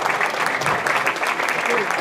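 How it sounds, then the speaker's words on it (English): An audience at a public library entertainment evening claps and applauds in a dense, steady patter for a couple of seconds. "Give her a hand clap, everybody."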